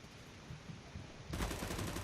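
Burst of automatic gunfire from a CS:GO match, starting abruptly partway through after a stretch of low background noise, loud and close with rapid repeated shots.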